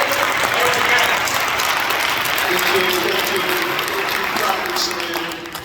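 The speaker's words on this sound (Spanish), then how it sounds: "le damos un fuerte aplauso y la bienvenida al alcalde" A large community forum crowd applauds in welcome of the mayor, producing dense, sustained, loud clapping that holds steady and then tapers slightly at the end.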